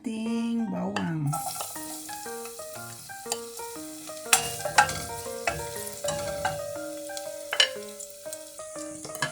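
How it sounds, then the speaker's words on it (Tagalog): Garlic sizzles in hot olive oil in a pan for a simple pork, green pea and potato dish. A faint, steady frying hiss runs with scattered clinks beneath prominent melodic background music. "lalagyan natin ng olive oil. Ayan, ihuhulog natin yung ating bawang."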